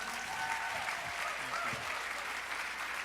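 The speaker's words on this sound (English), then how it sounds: "Another round of applause for Dr. Timothy McKnight." Steady applause from an audience, a dense wash of clapping that holds at an even level throughout with no pauses.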